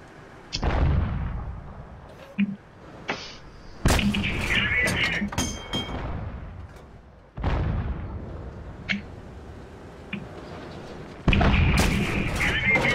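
Tank cannon fire booms out in a tank video game during a Tier 6 Stronghold Skirmish, several heavy shots and thuds with rumbling tails, spaced irregularly, while players talk in between.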